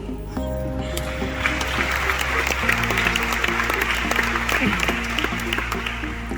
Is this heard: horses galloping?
no